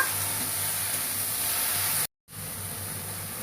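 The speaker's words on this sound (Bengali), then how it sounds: "ঢ্যাঁড়সটা খুব ভালো করে ভাজা করতে হবে" Okra fries in a pan with salt and turmeric, giving a steady loud sizzling hiss that cuts out briefly and resumes.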